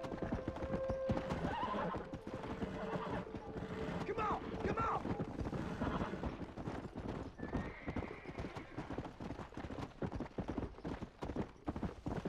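Hoofbeats of a horse galloping in Red Dead Redemption keep up a steady clip-clop, joined by loud neighs and whinnies over game wind and ambience, with a faint voice now and then.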